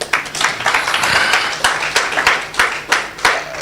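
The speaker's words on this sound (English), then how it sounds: "A round of applause, a proper one." Conference audience applauding at a stakeholder session, a dense burst of clapping with several sharper individual claps standing out, fairly loud and close, with a faint voice underneath.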